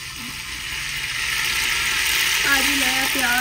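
Ghee sizzles steadily in a pot as pulao is started, a continuous close frying hiss that builds slightly, with faint clinks of a utensil near the end.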